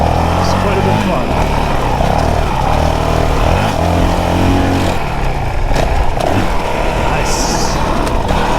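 A 2022 Honda CRF450RL dual sport motorcycle on a motocross track at Highland Park, its engine revving up and down close by under wind noise, with bursts of throttle and a voice talking over it.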